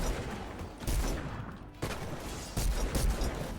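Gunfire rings out in a Fortnite Creative deathrun map, with several loud, close bursts of shots over a dense, noisy game soundscape and no talking.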